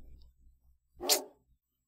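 A single short dog bark in the Minecraft video game, one sharp bark standing alone after a few faint low thumps, with silence after.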